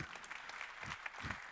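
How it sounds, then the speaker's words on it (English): Audience applause for the jury at a pitch competition, a soft, fairly faint wash of scattered hand claps lasting briefly with a few low thumps underneath. "let's first give a round of applause and recognition to the jury"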